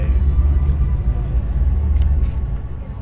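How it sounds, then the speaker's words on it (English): A Ford Mustang rolls in to a fall classic car show in Attleboro, Massachusetts, its engine a steady low rumble close by, with a voice talking over it. "That sounds really good, that Mustang."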